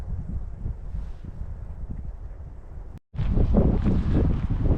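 Steady outdoor wind roar in the Scottish Highlands between Fort Augustus and Fort William, buffeting the microphone, low and rumbling, with a brief dropout and then a stronger gust. No voices.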